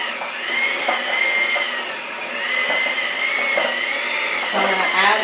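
Electric mixer beating sugar into cake batter, a continuous whirring drone with slight pitch shifts and occasional scraping clatters, close and steady.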